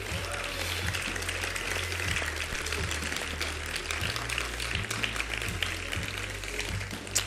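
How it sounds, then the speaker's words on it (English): Audience applause at a film festival event, a continuous wash of clapping over a steady low hum that holds evenly for about seven seconds, moderately distant. "So a round of applause for Institut Français."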